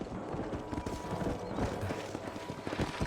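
Horse hooves clip-clop at a steady, quick trot in the Western video game Red Dead Redemption, a close, rhythmic run of hoofbeats with faint creaking tack beneath it.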